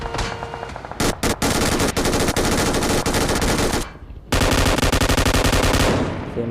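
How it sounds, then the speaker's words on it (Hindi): Rapid automatic machine-gun fire from the battle royale game BGMI, loud and close, in long sustained bursts with a brief pause near the middle before another long volley resumes. "हमारा मशीन गन वाला प्लेयर कर रहा था मल्टी"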